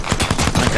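A rapid burst of gunfire in the video game Apex Legends: several loud, closely spaced shots ring out alone in under a second.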